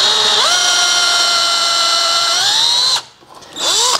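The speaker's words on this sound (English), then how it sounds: "put this counterboring tool in there and cut for a counterbore that's gonna receive the flange on the top of the insert" A counterboring tool bores a counterbore for the flange of a Time-sert thread repair insert, a steady high power-tool whine running for about three seconds, cutting out briefly, then spinning back up.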